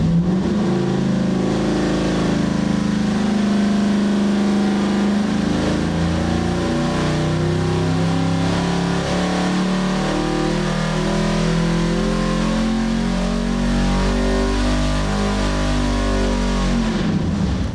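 A custom EFI 632ci big block Chevy V8 roars steadily on an engine dyno under heavy load, a loud, sustained deep engine drone holding for about eighteen seconds without talk.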